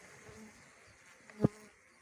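Faint buzzing of honey bees hums in the background, with one brief louder thump partway through; quiet and steady otherwise.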